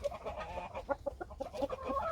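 Golden rooster and hens peck at a native Korean pumpkin given as a snack, their short clucks and low murmuring calls coming close and irregular over a couple of seconds.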